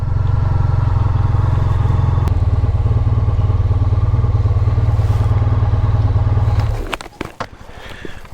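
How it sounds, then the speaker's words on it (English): Close, loud 125cc motorcycle engine running steadily with a throbbing exhaust beat for several seconds, then cutting out abruptly, followed by a few clicks and clatters in the quiet. "Here she is, last little ride on the bike that started it all."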